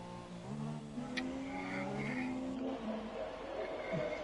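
An F1 car engine eases off the throttle in F1 2017 at Spa, its whine dropping in pitch and fading under a commentator's voice.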